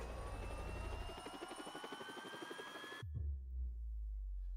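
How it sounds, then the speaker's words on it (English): A Black Hawk helicopter heard within a song: steady rotor chopping with layered tonal hum, loud and continuous for about three seconds before cutting abruptly to a low rumble. "Oh, yeah, Black Hawk helicopter."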